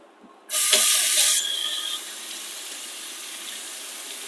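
Dried lentils rinsed under running tap water in a kitchen, a sudden loud splashing gush that settles into a steady, softer hiss of flowing water.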